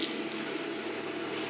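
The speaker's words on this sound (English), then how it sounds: "this stream table is a really cool way just to show how rivers form and where water flows in a river" Steady trickling water running through a stream table model of a river valley, a continuous close splashing flow with no voices.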